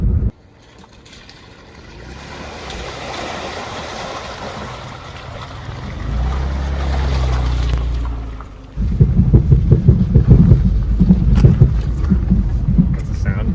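A Land Rover Freelander's engine hums off-road, then water sloshes and splashes heavily beneath it as it drives through, with rushing wind noise.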